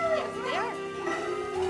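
Husky cross dogs at an animal shelter whimper and yip in short, whiny howling bursts, close by, with a person speaking over them.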